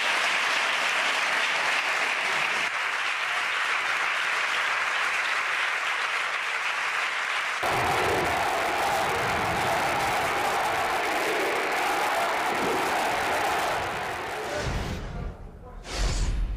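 Crowd outside the Catalan parliament cheering and clapping after the independence vote: a dense, steady roar of applause filling the whole stretch, shifting partway into a fuller, more voiced cheer, then breaking up near the end.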